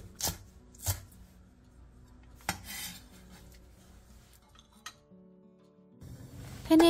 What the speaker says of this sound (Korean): 대파 초록 부분 조금을 쫑쫑 썰어주세요.